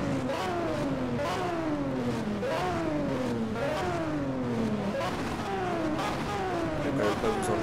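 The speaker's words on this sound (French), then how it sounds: "Je vais quand même pas vous enlever le bruit du moteur." A Bugatti engine in the racing game Need for Speed Shift revs up and shifts repeatedly, pitch climbing and dropping in a steady cycle, continuous and fairly loud.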